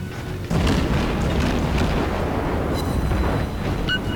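Warship cannons firing in World of Warships: a sustained, loud, rumbling blast of heavy gunfire and booms that starts abruptly and holds for several seconds, with small metallic pings near the end.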